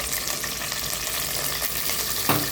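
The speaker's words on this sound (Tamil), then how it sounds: "நல்லா எண்ணெய் காஞ்ச உடனே இந்த கருவேப்பிலை லைட்டாக" Curry leaves fry in hot oil for a quick chicken dish, giving a steady, loud, dense crackling sizzle throughout with a sharper pop near the end.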